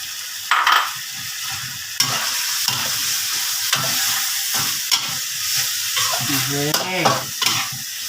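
Pork neck is stir-fried in a pan until the liquid cooks off, giving a loud, close, continuous sizzle with frequent scraping and clanking strokes of a spatula throughout.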